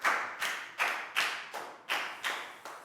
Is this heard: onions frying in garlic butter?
no